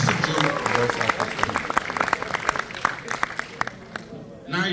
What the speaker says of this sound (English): A round of applause for this fantastic job.